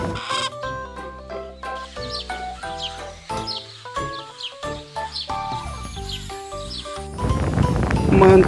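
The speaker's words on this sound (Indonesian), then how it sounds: "ini ayam jago" A rooster crows and clucks over bright, bouncy music, with the bird calls popping up between the melody notes and a louder burst of noise near the end.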